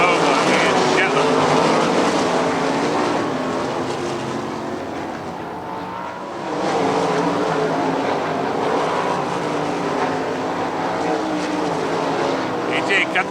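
Sprint cars racing on the dirt oval at Lernerville Speedway on championship night, a loud sustained roar of engines rising and falling as the field passes, heard under continuous commentary.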